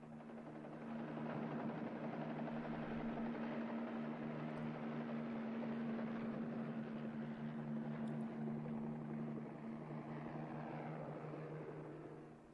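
A steady low helicopter rotor drone with a constant hum, heard at a distance and fairly faint, fading in and out at the edges, from the film Gamera vs. Barugon.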